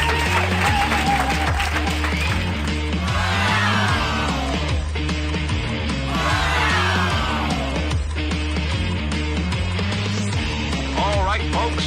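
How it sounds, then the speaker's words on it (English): Audience applause with cheers and whoops at a live stage show, a dense steady crowd wash running the whole time beneath loud music. "Come on, folks, let's hear that applause."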